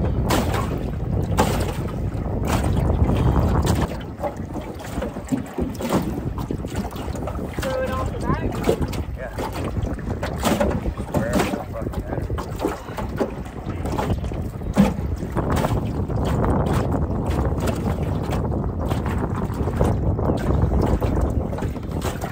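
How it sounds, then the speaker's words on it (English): Strong wind sweeps across a lake during a small-boat fishing trip, battering the microphone with loud continuous roaring gusts over water wash, with voices now and then. "Seriously, the wind just came out of nowhere."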